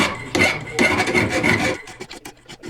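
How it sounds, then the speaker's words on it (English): A hand file rasps in long strokes across a wood carving bench knife being shaped, with two extended filing passes followed by shorter, choppier strokes and scrapes, close and fairly loud. "it's kind of fun playing around with the hand files"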